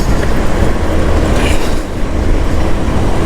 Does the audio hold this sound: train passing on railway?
yes